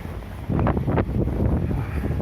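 Strong wind in a snowstorm in Yakutsk roars in sudden gusts across the microphone, rising sharply after a brief calmer moment and staying loud and blustery.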